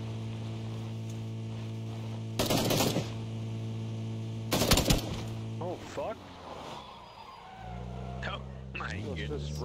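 Video game gunfire comes as two short, loud bursts of rapid shots over a constant droning engine hum, followed by revving vehicle sounds and game effects.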